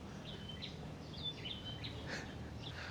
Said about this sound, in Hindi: और चिड़ियाओं की जो आवाज़ है चहकने की, वो लगातार आती रहती है।